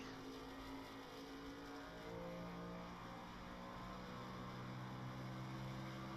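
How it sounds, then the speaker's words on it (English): An iRacing Xfinity race car engine at Nashville Superspeedway drones steadily at a distance, its pitch holding and shifting slightly as the driver clutches in to save fuel, with no voices over it. "you can hear Rambler right now clutching in, so he's saving all that he can."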